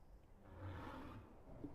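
A minotaur in a fantasy video game lets out a low, rumbling roar lasting under two seconds, steady and moderately loud with a slight swell near the end, heard alone without talk.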